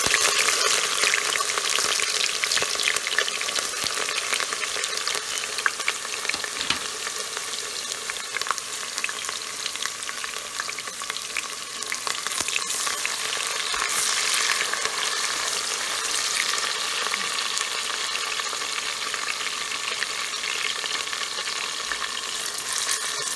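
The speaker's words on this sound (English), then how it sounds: "we're going to start frying our stew. Add some oil. Then we let it heat before adding our onions." Onions frying in hot oil for a tomato and green vegetable stew, a steady close sizzle with crackling pops running throughout, no voices.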